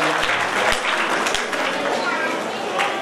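An audience in the Rajiv Gandhi Auditorium applauds at a district library's 58th anniversary closing event, steady dense clapping with a few low thumps throughout.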